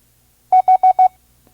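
Four evenly spaced steady beeps of a single pitched tone, the Morse code letter H sent at a slow training speed of five words per minute, clear and isolated against near silence.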